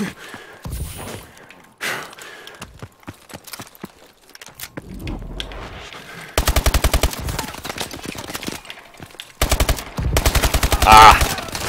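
Rapid automatic gunfire bursts from Call of Duty Advanced Warfare in a 1v1 match, loud rattling volleys in two main stretches with quieter game sounds and brief voice noises between them.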